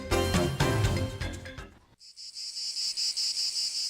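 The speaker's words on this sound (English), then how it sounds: "For many, the sound of cicadas is the sound of summer, but at times it can be overwhelming" Summer cicadas buzz in a loud, pulsing high drone that follows a fading burst of music and continues steadily alone.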